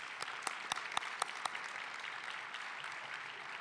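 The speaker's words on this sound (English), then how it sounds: "Let's give her a round of applause." Audience applause after a student is congratulated at a high school valedictorian ceremony, a crowd clapping steadily at a moderate distance with several sharp louder claps standing out early, then thinning toward the end.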